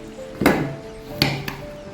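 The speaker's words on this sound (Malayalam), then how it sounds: "വെണ്ടക്കായ് മുറിക്കുക." A knife cuts okra for a Kasaragod-style curry, giving three sharp, close chops against a board with quiet gaps between them.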